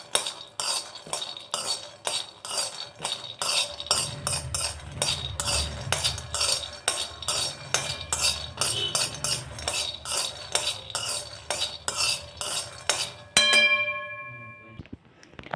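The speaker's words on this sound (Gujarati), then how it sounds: "હવે આપણે મીડિયમ ગેસ ઉપર એને 5 મિનિટ આ સિંગદાણાને શેકી લઈશું।" Raw peanuts stirred in a kadai over medium gas heat, a fast, steady run of bright metallic scrapes and clinks from a spoon against the pan, close and loud, ending with a few ringing taps.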